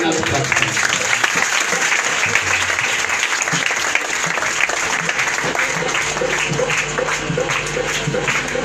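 A church audience at an evening worship service in a Punjab village claps loudly and continuously, with dense sustained applause and voices mixed in.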